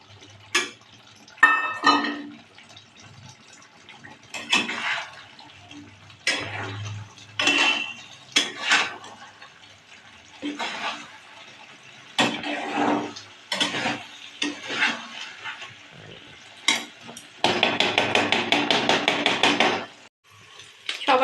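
A flour-and-water slurry with a pinch of sugar is stirred into a pot of mixed vegetable curry, giving irregular close scrapes and clinks of a spoon against the metal pot, with a soft sizzle and a denser run of stirring near the end.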